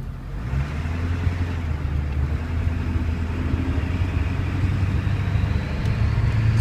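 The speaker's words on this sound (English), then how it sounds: "So you can definitely hear that turbo a little bit more, and that's just from my exhaust right there." A Ford Super Duty 7.3 Powerstroke diesel runs steadily nearby, its deep exhaust drone carrying a faint turbo whistle, holding a constant level throughout with no voices.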